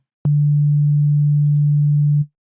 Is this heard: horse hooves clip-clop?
no